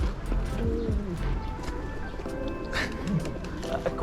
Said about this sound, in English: The pigeons here are particularly friendly too.